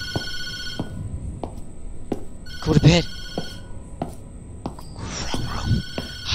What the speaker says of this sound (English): Stop with the phone ringing. I don't know why the phone's ringing.